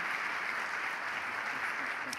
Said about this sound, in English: Can we give a round of applause for both Sadat and Tony